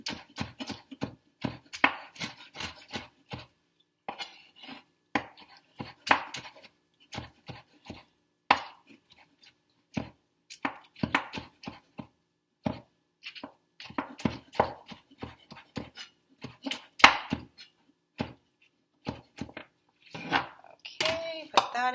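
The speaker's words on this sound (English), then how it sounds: "These are just too big to put in a salad, so I need to cut them up a little bit" A knife chopping vegetables on a board for a salad, a long run of sharp, rapid close-up cuts in irregular bursts with brief pauses, while a person talks between them.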